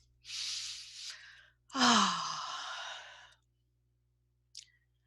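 Two slow, deep breaths close to the microphone: a long airy inhale followed by a fuller exhale that trails off, then a small click near the end, in an otherwise quiet room.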